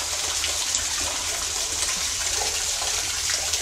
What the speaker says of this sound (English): The water's coming from the ceiling or down a small waterfall.